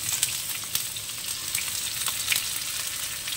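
Cinnamon, cardamom, onion and green chilli frying in oil in a pan, a steady close hiss and sizzle with faint crackles throughout.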